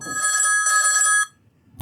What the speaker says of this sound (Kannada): ಫೋನ್ ರಿಂಗ್ ಅನ್ನೋದು ಇಲ್ಲಿ ಕ್ಲಿಕ್ ಮಾಡಿದ ತಕ್ಷಣ ನೋಡ್ತಿರ್ಬೋದು ಈ ರೀತಿ ಬರುತ್ತೆ